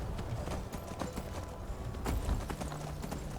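Horse hooves clip-clop steadily in the video game Skyrim Special Edition, a soft continuous trotting rhythm at moderate distance over low ambient background.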